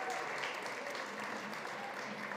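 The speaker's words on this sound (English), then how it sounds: "Give yourselves a round of applause" Steady crowd applause fills a large room at a food summit during South by Southwest in Austin, a continuous even wash of many hands clapping, moderately distant and without a break.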